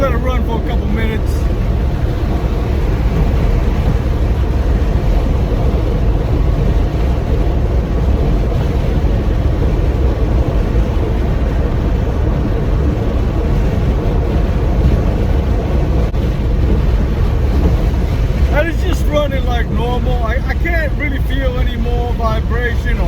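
A Corvette C5 Z06 fitted with Revshift motor mounts cruises at 70 mph on a freeway, a loud, steady, low-pitched drone of engine, tire and wind roar heard from inside the cabin, with a voice talking over it.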